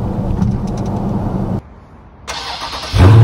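A Dodge Charger Scat Pack with its naturally aspirated engine rumbles loudly through a tunnel. A steady drone gives way to a brief quieter gap, then the engine and exhaust swell back, ending in a loud, deep roar.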